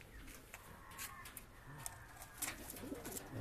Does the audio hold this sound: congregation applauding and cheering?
no